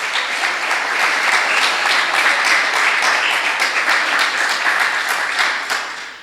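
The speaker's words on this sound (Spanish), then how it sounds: "Démosle un aplauso a nuestro Dios." Sustained applause fills a church meeting, a dense wash of many hands clapping steadily at even loudness throughout, then thinning slightly at the very end.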